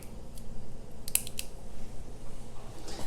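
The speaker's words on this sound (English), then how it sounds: "Let's go ahead and get this guy on the wrist." A Rolex Deepsea watch being fastened onto a wrist gives small sharp metallic clicks and ticks of the bracelet and clasp, close and faint over a low hum.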